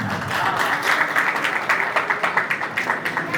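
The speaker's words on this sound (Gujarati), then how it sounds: "જોરદાર તાળીઓ છે." A crowd at the Dodiya family's first get-together in Chotila claps in a steady, rhythmic round of applause, moderately close and sustained throughout.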